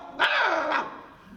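A human voice imitates an angry dog, giving a sharp bark followed by a snarling growl, then a second bark-like burst that fades into a low rumble, close and loud.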